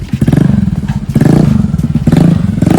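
A motorcycle engine runs loud and close with a rapid, pulsing throb that rises in short surges, as if being revved, with some clatter and no talking.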